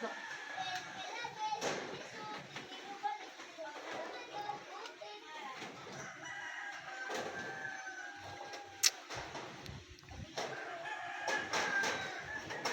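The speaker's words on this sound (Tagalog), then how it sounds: "yung mga manok na niniktilaok" Roosters crow several times at a distance around a hilltop building site on a windy day, mixed with clucking chickens, children playing and nearby conversation.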